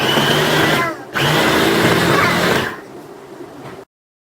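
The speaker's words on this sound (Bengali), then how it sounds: "খুব ইজিলি এটা দিয়ে ব্লেন্ড হয়ে যায়।" A small blender motor whirs steadily at close range, briefly dropping out, then resumes and winds down to a lower pitch before cutting off.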